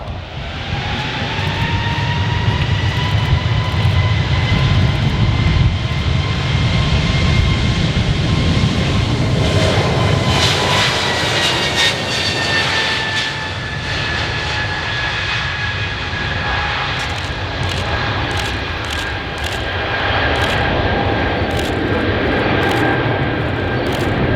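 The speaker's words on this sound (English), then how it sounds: "like modern transport jets, it's very quiet." A Brazilian-built jet airliner's engines drone steadily as it passes at the Farnborough Airshow, a broad roar with high whining tones that slowly drop in pitch, continuous and fairly loud.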